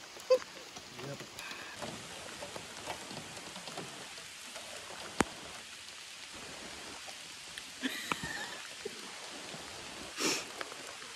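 Rain falling at a lakeside campsite on Putnam Pond in the Adirondacks, a steady, soft patter on surfaces and a tarp, faint and continuous with a few sharper drips and knocks.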